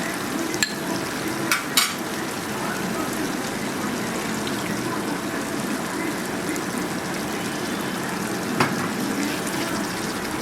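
Cashew paste being stirred into spices frying in a pan for aloo dum, a steady close sizzle with soft scraping of the spoon and a few faint clicks, no voices.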